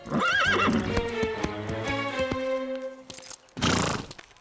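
A cartoon horse whinnies loudly with a wavering, trilling neigh, followed by rhythmic hoof clops and a snort-like burst near the end, close and clear with no talking.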